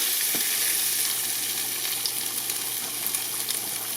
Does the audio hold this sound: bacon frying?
yes